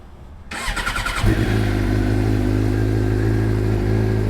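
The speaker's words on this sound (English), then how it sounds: "let's give her a little cold start" A Suzuki GSX-R 600 motorcycle engine cranks and fires up from cold after a brief quiet moment, then settles into a steady, loud, rumbling idle close by.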